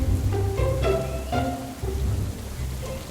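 Rain in an animated children's story makes a steady, fairly loud hiss and patter over a low rumble, with tonal layers woven through it and no speech.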